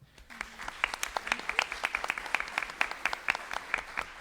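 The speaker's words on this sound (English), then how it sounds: "Please also join me in giving her a big round of applause." Scattered, sparse applause from a small audience at a summit session, individual claps distinct and moderately near, thinning out over a few seconds.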